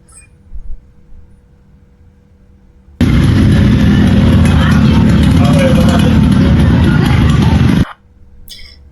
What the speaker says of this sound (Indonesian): suara knalpot yang bising di area kampus